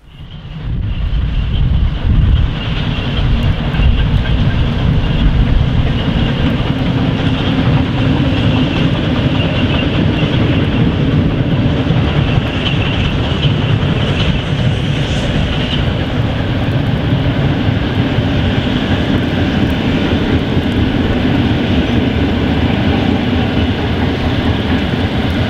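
Steam locomotive 58 1111-2 runs past the Werra bridge at Hörschel near Eisenach in pouring rain, a loud continuous rumble with rolling wheel clatter and wind buffeting the microphone, no voices.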